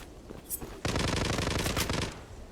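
Kar98 bolt-action rifle shots in the online shooter Zula, a dense burst of loud, rapid gunfire that runs for about a second and a half after a few quieter pops, with no talk over it.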